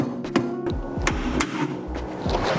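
Several sharp metallic knocks ring out in quick succession, close up, as a hammer knocks out the metal knockout plug on a garbage disposal.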